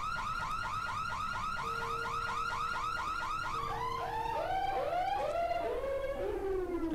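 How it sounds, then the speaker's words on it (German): An alarm system goes off in the video game Dead Island, a loud rapid warbling electronic siren that repeats its rising sweeps steadily, with a constant tone running underneath and no speech over it. "Oh, Alarmanlage."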